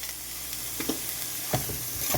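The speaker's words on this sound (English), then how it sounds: "Stir it up nicely." Vegetable soup with carrots, mushrooms and black pepper sizzles steadily in a pot while a utensil stirs it in several soft strokes, close and continuous, with no talking.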